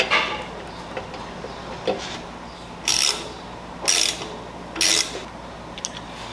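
Struts being removed from a 2026 Harley-Davidson Street Bob, a ratchet clicking in three distinct bursts a second apart after a few fainter metallic taps, close and fairly loud, no talking.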